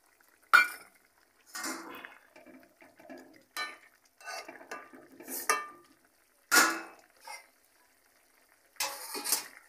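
Ground cumin-chili paste stirred into a simmering eggplant, potato and fish curry in a metal pan, with sharp scraping clinks and bursts of sizzling stirring in irregular strokes, close and clear with quiet gaps between.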